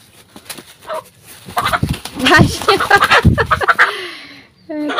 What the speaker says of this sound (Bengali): আরে মোরগটা